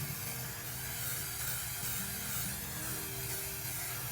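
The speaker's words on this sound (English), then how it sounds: "I'm able to kind of get a slower spray pattern to achieve a really good consistent look." An aerosol can spraying FRP coating in a slow, even pattern gives a continuous close hiss that holds steady and loud for several seconds with no pauses and no voices.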